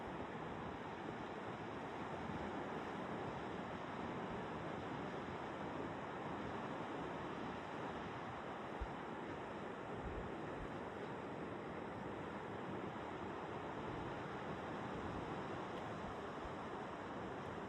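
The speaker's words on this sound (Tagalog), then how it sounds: "tunog ng alon ano." Steady roar of ocean surf washing in continuously by a boulevard in Camarines Norte, Philippines, with wind rushing across the microphone; no voices.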